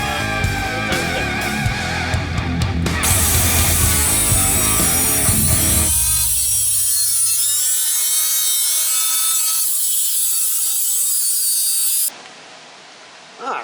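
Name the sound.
whacker tool cutting out a car floorpan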